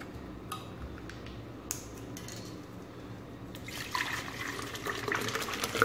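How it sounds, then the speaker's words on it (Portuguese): One litre of milk poured steadily into a blender, starting after a few quiet clicks and handling sounds, growing louder and splashier toward the end. "No liquidificador, 1 litro de leite. Vou abrir 1 litro de leite aqui agora."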